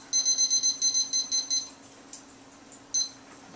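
Digital oven timer being set while baking apple cheesecake cupcakes: a quick train of about ten bright, evenly spaced electronic beeps close by, then a pause, a soft click and one final beep, over quiet room hum.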